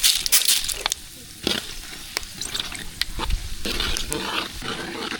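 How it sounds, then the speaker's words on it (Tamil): Mustard seeds spluttering and popping in hot oil while tempering for a white sambar, with sharp irregular crackles, sizzling and some stirring scrapes close by. "கடுகு நல்லா பொரிஞ்சிச்சு வச்சு சேர்த்துக்கலாம்"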